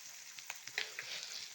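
Sliced onions and a few green chilies fry in oil in a pan for onion chutney, giving a steady soft sizzle with small pops and light stirring.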